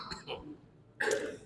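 A man coughs and clears his throat during an Islamic study lecture, two short close bursts separated by a brief quiet pause.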